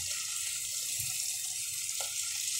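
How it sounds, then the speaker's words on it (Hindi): Milk poured into a pan of roasted mixture for a turri dish, a steady bright splashing pour throughout with a small clink near the end, alone and close. "अब मैं इसमें दूध डालूंगी"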